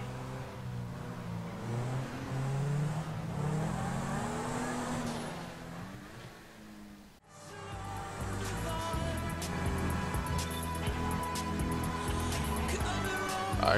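In the video game GTA Online, a car engine hums and revs steadily as the car drives along. Partway through, a cut brings in music playing over the continuing engine drone.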